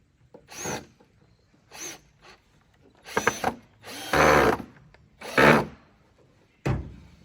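A power drill drives screws into wood as a box spring is rebuilt into bookshelves, with several short bursts of whirring separated by pauses, one longer run in the middle, all close and clear.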